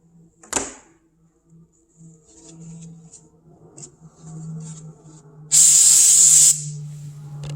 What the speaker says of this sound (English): More brake cleaner.